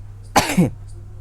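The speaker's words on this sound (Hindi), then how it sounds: "इसकी वजह से थोड़ा बहुत खांसी भी आ रहा है" A single sharp cough from someone with a cold, close and loud, in an otherwise quiet room.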